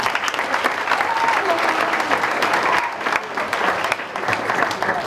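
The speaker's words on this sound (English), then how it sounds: "Nice round of applause for our boosters" A crowd at a high school fall sports banquet gives a sustained round of applause for the boosters, a dense wash of many hands clapping steadily throughout with some voices in the room.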